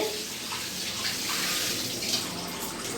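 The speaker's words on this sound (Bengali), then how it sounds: "এবার আমি একবার গরম জল দিয়ে ধুয়ে নেব" Tap water runs steadily into a sink while mushrooms are washed in a kitchen, a continuous close splashing hiss with no talking.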